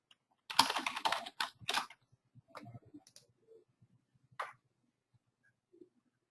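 Keys clatter on a computer keyboard in a quick flurry of typing, followed by scattered, fainter clicks and keystrokes with pauses between them, close and alone.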